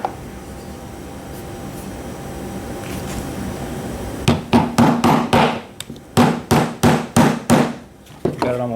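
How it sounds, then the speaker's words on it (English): A plastic hammer taps a punch into an S&W M&P pistol during trigger work, a run of about a dozen sharp, close taps in uneven clusters after a stretch of quiet room hum. "lay that flat, use my punch. I'm going to start off with my plastic hammer."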